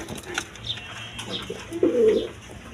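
A Mumbai pigeon gives a short, soft coo that swells near the end, close by amid quiet background clatter.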